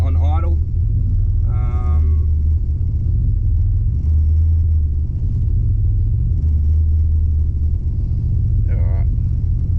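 A turbocharged VN V6 idles steadily with a deep, even low rumble that runs through the whole stretch, up close and loud, with brief bits of talk over it now and then.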